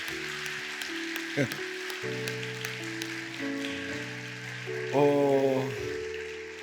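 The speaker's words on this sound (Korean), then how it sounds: "우리 또 이분들을 위해서 박수해 주세요" Audience clapping at a trot music concert event, a light patter of applause running under sustained musical tones and a brief voice, fairly faint against the music.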